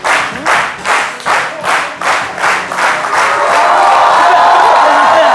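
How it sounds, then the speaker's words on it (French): A studio audience at a French midday TV show claps in rhythmic unison, eight sharp beats, for five contestants, then breaks into loud, continuous applause and cheering that holds steady. "Applaudissez nos candidats, nos 5 candidats, nos héros du jour"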